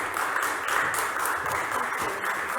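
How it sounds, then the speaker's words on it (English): An audience applauds a speaker at an athlete-empowerment event, a steady, dense wash of clapping that holds evenly throughout without a break. "So please, a round of applause for Carla."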